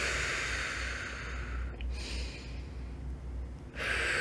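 Slow breathing exercise with a long, soft exhale of breath rushing out steadily, broken by a brief pause before another breath begins, close and fairly quiet, with no talking.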